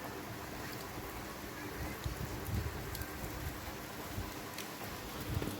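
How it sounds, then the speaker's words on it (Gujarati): Rain falls outside a farm building with a shutter pulled down, a faint, steady wash of drops on surfaces with a few louder patters, heard from nearby and with no talking. "વરસાદ કરવાનું ચાલુ થઈ ગયો"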